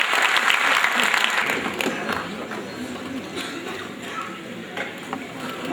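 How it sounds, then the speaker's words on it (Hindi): Enthusiastic audience applause welcomes a speaker at a Pasmanda Muslim community gathering in a Lucknow auditorium, strongest at the start and then settling into steadier, slightly softer clapping that continues throughout. "जोरदार तालियों से इस्तकबाल कीजिए अनीस मंसूरी साहब।"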